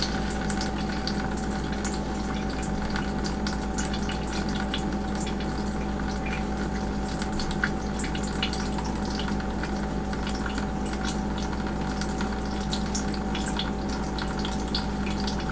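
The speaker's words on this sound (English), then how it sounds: "Can hear the water running into the bucket through the colander." Water runs through a colander into a bucket as California buckeye nuts are leached in a traditional Native American way, making a constant, even trickling and splashing with no pauses or voices.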